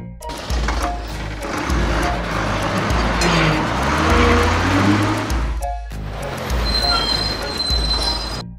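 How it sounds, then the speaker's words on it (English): A cartoon Rome bus drives along with a loud, continuous engine rumble and squealing, grinding wheel noise, briefly cutting out before resuming. "Rome bus."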